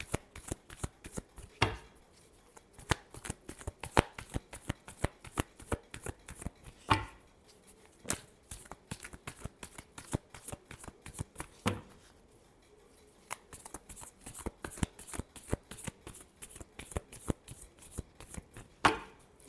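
Tarot cards are shuffled by hand, close and crisp, in repeated riffling bursts and flicks with brief pauses between them, and no talking.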